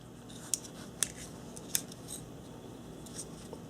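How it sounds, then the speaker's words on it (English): The scissors on a Leatherman multitool open and snip with three or four crisp, sharp metallic clicks, close and fairly quiet, with no talking. "On this side, have a very nice pair of scissors."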